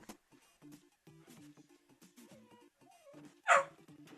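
Buster the pet dog lets out a single loud bark close by, rising sharply above a quieter bed of patterned background game noise.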